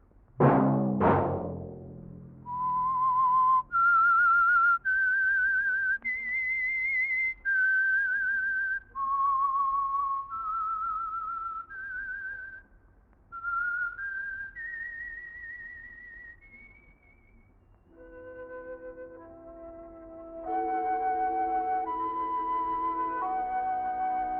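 A solo whistler carries a slow melody in clear, sustained notes, one after another. Near the end, soft accompanying instruments join in.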